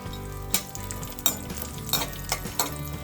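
Dry fruits roasting in ghee in a pan, a steady close sizzle with several sharp stirring scrapes spaced through it, made while cooking coconut rice.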